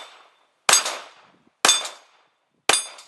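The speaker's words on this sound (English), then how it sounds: "I'm shooting it and hoping that there will be a little bit of a kick" Three sharp, loud shots from a Phoenix Arms HP22 .22 pistol, each a crisp crack that rings briefly and fades, spaced about a second apart, with silence between them.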